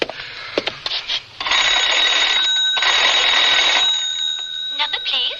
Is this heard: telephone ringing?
yes